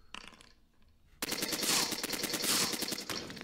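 A half-track unit fires in the video game Heroes of Normandie, a rapid burst of loud, closely spaced shots after a quieter start, rattling on for about two seconds.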